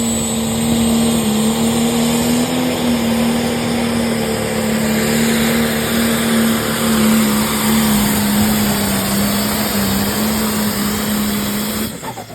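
Hot rod John Deere alcohol pulling tractor with a solid roller cam idles steadily, a loud, even engine drone with a constant low hum that holds until it cuts off near the end, no talk.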